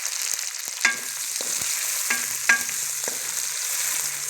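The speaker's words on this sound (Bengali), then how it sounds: "আদা রসুনটা একটু ভেজে টমেটো কুচি দিয়ে দেবো।" Crushed ginger and garlic with chopped tomato fry in a pan, a steady close sizzle broken by a few sharp clinks and scrapes from stirring.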